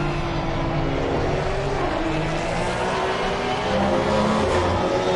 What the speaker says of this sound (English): These cup cars sound amazing.